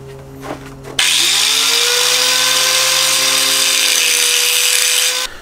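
Power tool cutting the ends off a metal L bracket screwed to a board: a loud, harsh, sustained grinding whine with a steady ringing tone, starting abruptly after a short hum and running continuously up close.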